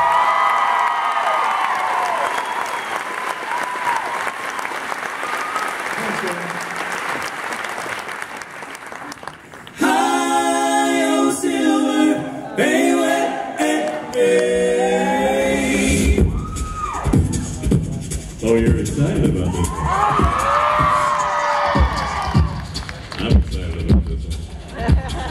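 Concert audience applauding and cheering loudly for a singer being introduced at a live vocal group show. A dense, sustained roar of claps and shouts builds after announcer speech and continues through most of the stretch.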